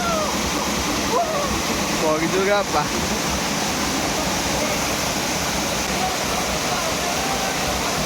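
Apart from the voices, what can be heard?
rushing water at a waterfall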